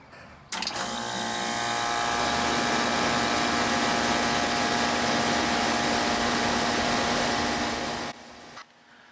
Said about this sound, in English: Now I'm going to turn on AC from inside, from thermostat, and let's see what happens.